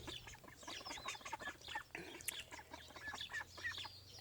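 A flock of ducks and chickens calling nearby, overlapping squawks and clucks with a few quacking notes, busy and fairly quiet, no one speaking.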